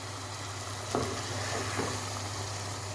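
Salem raw mango thokku cooks in oil in a pan, giving a steady low sizzle with a couple of soft scraping stirs, quiet and with no voices.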